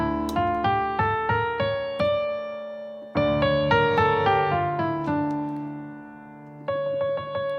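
Harmonic minor scale played note by note on a sustained, resonant keyboard-like instrument, clear stepwise tones in two ascending runs with a final held pattern near the end, no voices.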